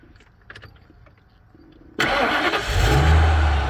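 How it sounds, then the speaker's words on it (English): A Ford E350 van engine cranks and catches about halfway through, following a quiet stretch of faint clicks, then settles into a loud, steady idle with a deep low rumble close by. "So I should be able to start the car now."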